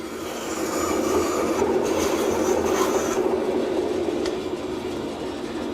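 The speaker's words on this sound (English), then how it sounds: "Now I'll cut the inside diameter, leaving the line so I can sand it smooth." A saw cuts the inside diameter of a wooden hub in a woodworking shop, a loud, steady, harsh cutting roar lasting several seconds with a few sharper scraping bursts.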